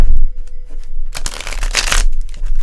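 Cards are shuffled close up in crisp riffling bursts, a loud flurry of snapping paper rising and falling over a couple of seconds.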